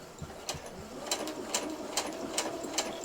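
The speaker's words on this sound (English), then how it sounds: "I'm stitching exactly along the line where I started, and then I'm going to do a few reverse stitches there" Sewing machine running a twin-needle stitch along a T-shirt hem, quiet rapid mechanical chatter in short bursts with regular clicking pulses, close and fairly faint, no talk.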